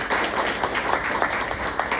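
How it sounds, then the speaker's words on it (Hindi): A brief burst of audience applause at a talk, steady clapping from a crowd of moderate size with a few sharper individual claps standing out. "थोड़ा सा तालियां हो जाने के लिए।"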